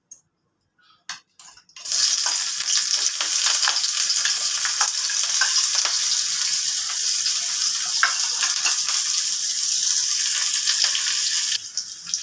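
Chopped onions hit hot mustard oil with a sudden loud, steady sizzle that fills the pan after a few quiet clinks, frying continuously with faint crackles throughout.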